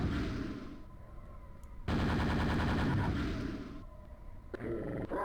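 Gunfire in a video game aimed at a monster, dense rapid shots blending into a loud continuous burst with growling creature noises mixed in, steady and close throughout.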